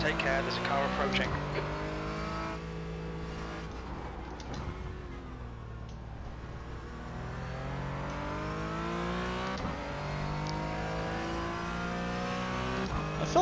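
A race car at Daytona in iRacing revs and shifts repeatedly, engine tone climbing and dropping through gears, loud and steady while another car draws near; a voice talks intermittently over it.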